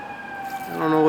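A police siren wails in the background under faint talking at an old park in Chicago, its tone rising and growing louder toward the end.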